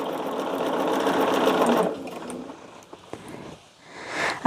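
A sewing machine stitches quilt rows together, running in a fast, close mechanical whir for about two seconds, then stopping, followed by faint handling clicks and a brief restart near the end.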